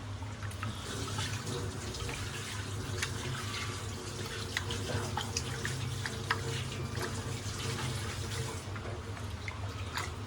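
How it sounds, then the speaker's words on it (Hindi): Rice washed under running tap water in a home kitchen, a steady close splashing rush with small trickles and drips over a low hum. "अब मैं ज़रा ये चावलों को धो के चढ़ाता हूँ"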